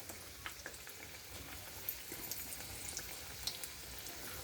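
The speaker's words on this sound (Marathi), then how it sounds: "फ्राय करून घेते आळूवडी" Alu vadi frying in hot oil, producing a soft, continuous crackle with scattered small pops and bubbles, fairly quiet and close, with no talking.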